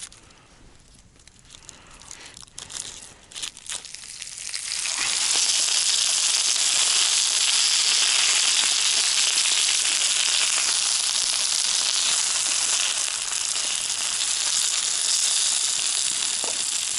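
Potatoes frying in a pan at a camp in the taiga, a loud steady hiss and crackle that starts after a few quiet seconds of clatter and then holds close and constant.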